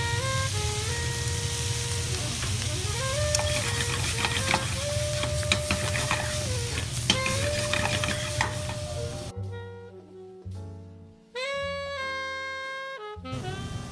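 Lobster sizzles loudly and steadily in a hot pan with a melodic tune over it; near the end the hiss cuts out and gives way to sharper bursts.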